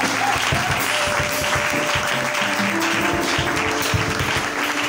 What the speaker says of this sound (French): On applaudit le Seigneur Jésus